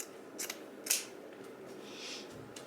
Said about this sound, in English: I am going to kind of cut around the edges here